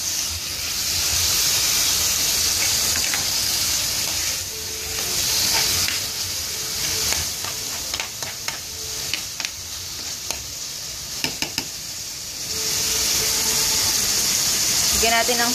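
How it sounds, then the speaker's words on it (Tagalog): Chicken breast fries with translucent onions in a pan, a loud, continuous close sizzle and steamy hiss broken by a few sharp taps and stirring clicks near the end. "Pag medyo translucent na yung onions, pwede na natin lagay yung chicken breast."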